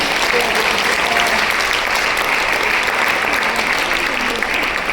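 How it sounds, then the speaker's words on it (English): Continuous, even applause from an audience at a FICCI FLO Chennai event celebrating young players, full and close with no pauses or talk breaking through. "A big round of applause for these young players"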